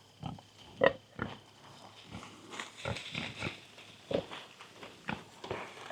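Pastured pigs, one near 200 pounds, root and graze in a field planted with daikon, giving scattered soft grunts and shuffling steps at close to moderate distance against a low outdoor background.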